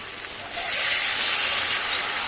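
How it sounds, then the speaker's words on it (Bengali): Tengra fish dropped into a hot pan for a curry with lentil dumplings: a quiet hiss jumps abruptly into a loud, steady sizzle that then eases slightly as the fish is stirred. "এবার ট্যাংরা মাছগুলো দিয়ে দিলাম। মাছগুলো আর একটু নেড়ে চেড়ে নেব।"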